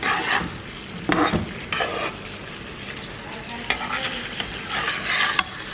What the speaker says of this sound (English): And then you stir. Mix everything together,